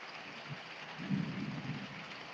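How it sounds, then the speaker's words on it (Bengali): A low thunder rumble swells in the middle of a steady wash of heavy rain as a dark storm gathers, the rain hiss continuous and fairly faint throughout. "এমনি বাজ করছে কন্টিনিউয়াসলি লিটারেলি"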